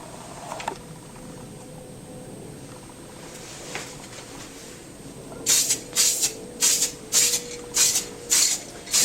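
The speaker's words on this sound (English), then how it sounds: "If you haven't done any spray painting yet" Steady hiss of an aerosol spray can released in about seven short, evenly spaced bursts, close by, after a stretch of quiet room noise.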